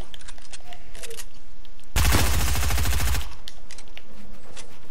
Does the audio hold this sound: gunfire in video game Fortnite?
yes